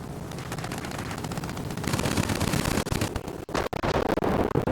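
Aircraft machine guns rattle in dense, continuous bursts during a World of Warplanes dogfight, loud and close, with brief gaps near the end before the firing resumes.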